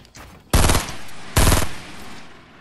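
Two loud bursts of rapid automatic gunfire from a video game, each lasting about a quarter second with a brief gap between, followed by lingering background game noise.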